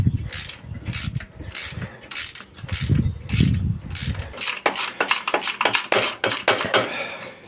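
Ratchet wrench removing bolts on a Fiat Ducato 2.3 JTD engine during timing belt and water pump work, first slow heavy clicking strokes, then a fast run of sharp metallic ratchet clicks, close and alone.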